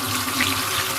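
Carrots are washed under a running kitchen tap, a steady close hiss of flowing water with no pauses.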